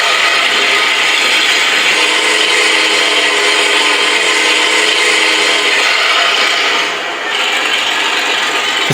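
A steady, buzzy model tank engine drone from a bare speaker with no sound box, harsh, tinny hiss, continuous and loud, with a brief dip near the end.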